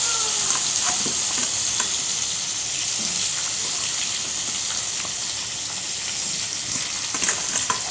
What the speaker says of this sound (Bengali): তেল গরম হয়ে গেছে, তেজপাতা আর পাঁচফোড়ন দিয়ে দিয়েছি।